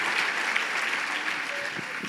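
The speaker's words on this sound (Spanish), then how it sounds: "Dense un fuerte aplauso porque lo han hecho extremadamente bien." Audience at a church gathering applauds loudly and evenly, a dense wash of clapping that stays steady for a couple of seconds, with faint voices underneath.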